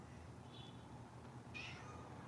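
A cat gives two faint, high meows indoors, a short soft one followed by a brighter, slightly longer cry, alone over quiet room noise.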